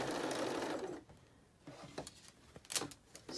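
Short bursts of a sewing machine stitching fabric masks together, with a sustained run at the start, a pause, then several quick stop-start spurts for back stitching.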